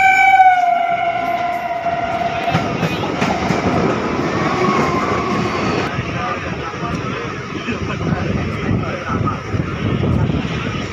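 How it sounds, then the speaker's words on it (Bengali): A train horn blares at the Habra level crossing, then a loud, continuous rumble of passing trains follows, with voices faintly audible in the background. "দুদিক থেকে ট্রেন আসছিল তখন"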